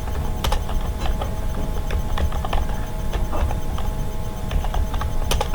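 Typing on a computer keyboard while filling in a Bihar Beltron DEO online application form, with scattered key clicks in irregular bursts over a steady room hum.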